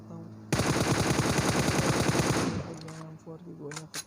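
An M4 rifle firing a rapid sustained burst in a video game, loud and close, lasting about two seconds before cutting off into quieter game sounds.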